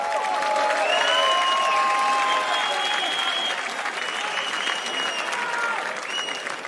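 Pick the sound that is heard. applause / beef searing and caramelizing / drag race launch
applause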